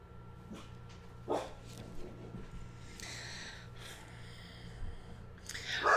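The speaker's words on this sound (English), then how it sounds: "I don't know why the dogs are barking." Dogs give a few scattered, moderately distant barks and snorts indoors, with quiet pauses between them.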